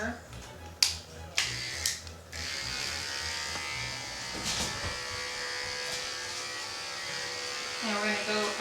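Electric dog clippers fitted with a 30 blade buzz steadily while grooming a Labradoodle's ear, beginning after a few sharp clicks and continuing under a person talking nearby.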